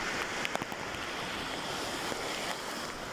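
Rough sea waves rolling in at high tide on a rainy day, a steady wash of surf and spray with faint wind, loud and continuous with no voices.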